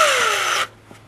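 A power drill whines steadily at close range as it drills out screws on a junked floor sander, its pitch sliding downward before the motor cuts off abruptly, leaving quiet room tone.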